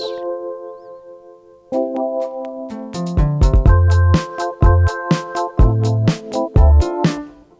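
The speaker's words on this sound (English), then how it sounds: "So it starts with the filter a bit closed and it kind of opens it up" An Ableton auto filter in DJ mode opens up over a MIDI-built electronic intro, with sustained synth chords joined by punchy bass and percussive hits as the sound brightens and fills out, loud and upfront.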